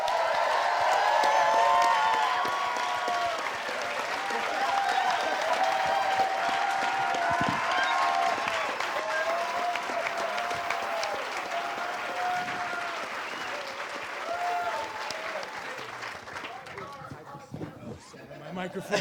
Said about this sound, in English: I think we have a very excited and appreciative crowd here tonight